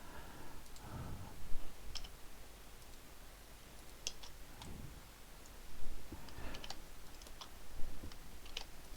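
Computer keyboard keys are pressed in scattered bursts of quiet clicks, irregular taps and short runs of typing close by, over a faint steady hiss with no voices.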